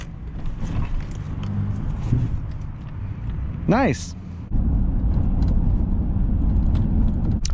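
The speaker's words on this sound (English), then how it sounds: "Only thing left to do is go for a test drive. Our bumpy road. Handle this ugly bump." A 2001 GMC Sierra SL 1500 pickup rolls over a rough, bumpy road, with a steady low rumble of tires and cabin noise, a brief clunk as it hits a bump, and a short spoken remark partway through.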